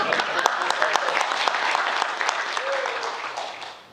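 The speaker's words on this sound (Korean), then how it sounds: "여러분 큰 박수로 맞이해 주시기 바랍니다" Sustained applause from an audience at an AI forum welcomes a speaker to the stage, a dense, even wash of clapping with a few voices mixed in, tapering off at the end.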